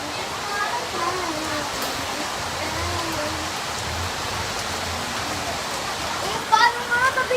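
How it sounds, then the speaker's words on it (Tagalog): Heavy rain pours steadily during a typhoon flood in a Philippine neighbourhood, a continuous hiss of downpour heard close, with a brief clatter near the end. "ang lakas pa ng ulan"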